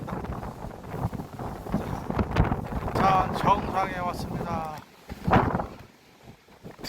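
Strong gusting wind buffets the microphone at a mountain summit, a rough, blustery roar with a person talking over it through much of the stretch.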